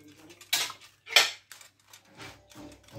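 Cutlery clattering as someone rummages through it for a spoon, with two loud metallic jangles followed by softer clinks and a drawer-like rattle.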